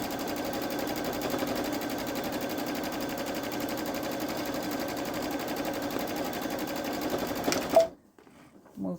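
Babylock Solaris 3 (Vision) sewing machine quilting a pumpkin pillow front, a rapid even needle clatter running steadily for nearly eight seconds at close range before stopping abruptly, followed by faint handling noise.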